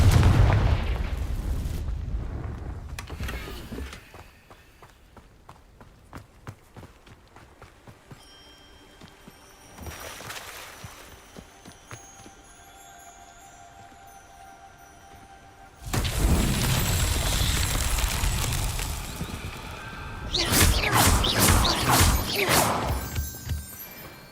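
Confringo spell blasts in Hogwarts Legacy, loud booming bursts with shattering crashes that come in separate waves around quieter stretches.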